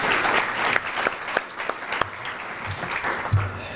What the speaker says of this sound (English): let's give Chris one more round of applause